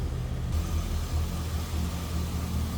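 A 2004 Chevrolet SSR's 5.3 V8 idles nearby with a steady low rumble, even and continuous throughout, with no voices.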